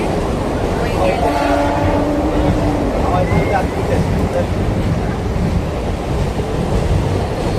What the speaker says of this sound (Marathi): आम्ही आता ट्रेन पकडून पनवेलला जाण्यासाठी इकडे